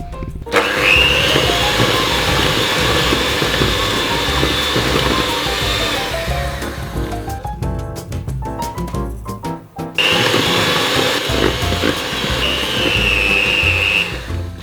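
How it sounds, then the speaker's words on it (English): A blender whirs loudly, blending a strawberry puree mixture for white chocolate and strawberry Tim Tams. The motor runs steadily, then stops briefly with some clatter and starts again at full speed, with no talking. "we're going to go ahead and blend that up"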